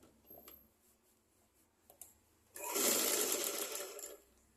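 A sewing machine stitches a straight seam in a short, loud burst of steady whirring that lasts about two seconds, after a few faint taps and handling sounds.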